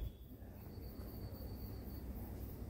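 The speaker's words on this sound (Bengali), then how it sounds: "এই যে আমাদের ট্রেন ছেড়ে দিচ্ছে" A toy train pulls away on a track around a pond in a park at an aviation museum in Dhaka. It gives a faint, low, steady rumble with a thin high whine.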